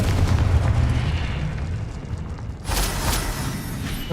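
Confringo fire spell blasts in Hogwarts Legacy, a dense continuous roar of rumbling explosions with a fresh burst of crackling impact about two-thirds through.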